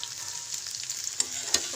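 Onions frying in hot oil in a pan for appalam tomato soup, a bright continuous sizzle up close with a few sharp utensil clicks near the end, no talking.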